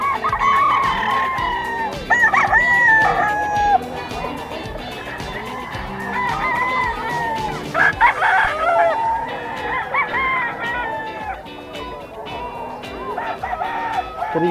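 Several gamefowl roosters crow loudly and repeatedly at Bocaue pet market, their calls overlapping amid a busy din of other birds, with faint voices mixed in.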